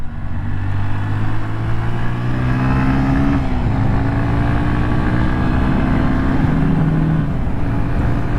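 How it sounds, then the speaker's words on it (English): A small Honda motorcycle engine droning and revving, pitch dipping and rising again with rev-matched downshifts, loud and close, no voices. "Rev matches are just so good here."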